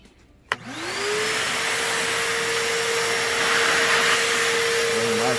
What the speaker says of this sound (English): This may be loud, guys.